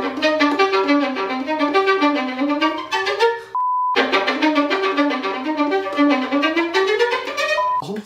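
Violin played with ricochet bowing, the bow bouncing to sound several quick notes per stroke in rapid repeating groups, a brief electronic beep cutting in partway through.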